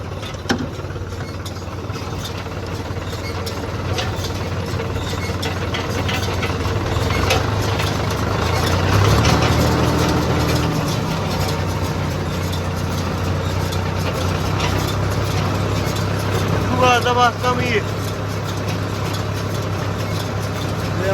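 A tractor engine runs steadily while the 540 PTO is engaged during a corn harvest. The low rumble idles at a constant level, swells slightly partway through, then settles again.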